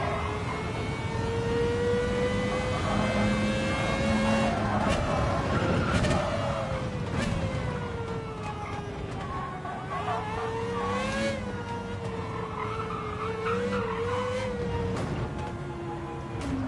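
A Renault Espace F1 at Yas Marina in Gran Turismo 7 gives a high, rising and falling engine whine as it accelerates and lifts through corners. Brief tyre-scrub bursts break in along the way.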